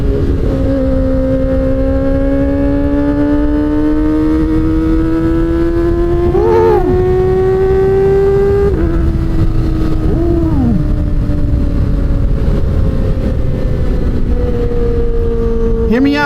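Motorcycle exhaust revving loud and close, a strong engine drone rising in pitch over several seconds, then dropping and climbing again, with brief sharp blips and rough wind noise throughout.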